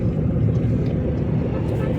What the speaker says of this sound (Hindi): ये देखो सामने से बाइक भी आ रही है।